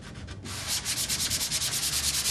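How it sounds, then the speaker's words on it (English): Rhythmic scratchy strokes of sandpaper rubbed back and forth over wood, close and steady, about a dozen quick passes after a brief softer start. "So just the light sanding"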